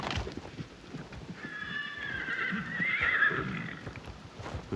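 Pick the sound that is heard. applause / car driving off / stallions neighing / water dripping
stallions neighing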